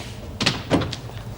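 A door at a house is heard: two soft knocks or thuds, a couple of knocks about a third of a second apart over a quiet room, fairly close and moderately loud, with no one speaking.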